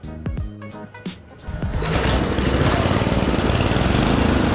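A Briggs and Stratton rototiller engine sputters, coughs a few times, then catches and runs steadily with a loud, continuous buzzing drone.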